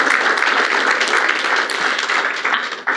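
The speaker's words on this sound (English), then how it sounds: "give a round of applause to each other" A large crowd at an awards event claps steadily in dense, continuous applause that fills the room at full volume for the whole stretch.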